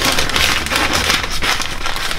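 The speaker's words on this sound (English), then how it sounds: "I think they're crumbling up the paper" Paper crumpled by hand in a plush-toy movie scene: a steady, close, loud crinkling and crackling rustle lasting a couple of seconds, with no voices over it.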